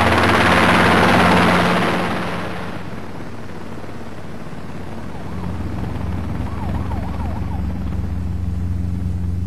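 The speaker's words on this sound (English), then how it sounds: "The helicopter does come down into vision if you are trying to really put some pressure on them." A 1998 Robinson R22 helicopter flies low in Australia, its rotor roar loud and close at first, then easing into a steady, slightly more distant drone.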